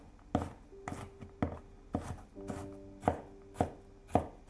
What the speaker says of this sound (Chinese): 再改刀切成蒜末